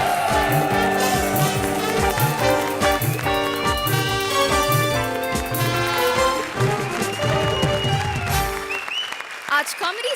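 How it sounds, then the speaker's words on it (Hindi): Studio audience on a comedy show applauds and cheers loudly for the performers Munni and Manish, a dense steady wash of clapping blended with music that cuts off near the end. "जोरदार तालियां मुन्नी और मनीष के लिए प्लीज।"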